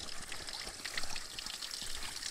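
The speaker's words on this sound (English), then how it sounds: "Now just here is a nice little creek, and it just comes past" A small creek in Namadgi National Park trickles and flows past at close range, a steady, quiet burble of running water with no one speaking.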